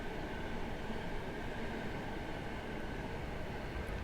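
A BR Class 66 diesel locomotive rumbles past on the Chatham Main Line, a steady, broad, droning roar of engine and wheels heard from some distance, even and unbroken throughout.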